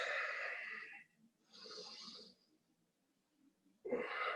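Deep, wheezy breaths during a stretching routine: a long exhale, a second breath after a short pause, then a sharp fresh inhale near the end, close and fairly loud with no talking.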